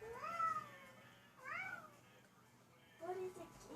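A pet cat meows three times indoors, each call a rising and falling wail that stands out clearly at moderate loudness against a quiet room.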